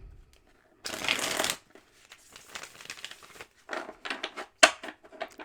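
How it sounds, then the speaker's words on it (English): A deck of tarot cards is shuffled by hand, with one loud riffling burst followed by quieter, choppier bursts of card flicks and slides, close up and without talk. "So I'm going to shuffle one more time."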